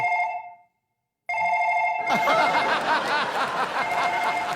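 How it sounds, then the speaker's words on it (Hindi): A telephone rings in a steady repeating electronic tone, cuts off to near silence, then rings again as crowd laughter and noise swell behind it, on a comedy show stage. "हिटलर का फोन बज रहा है"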